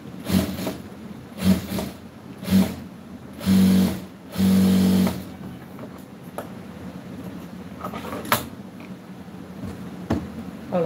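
A sewing machine stitches the neckline of a churidar, running in several short whirring bursts, two of them longer, then quieter handling of the fabric between runs.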